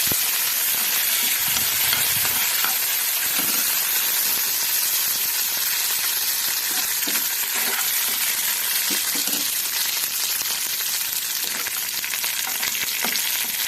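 Curry leaves sizzle in hot oil, a dense, loud, continuous crackling hiss close by, with faint clinks of stirring underneath.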